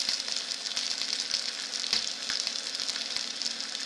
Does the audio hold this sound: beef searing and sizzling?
yes